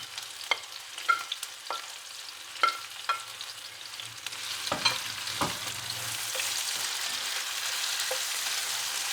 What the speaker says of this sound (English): I'm just going to saute this for a little while, about 2 minutes.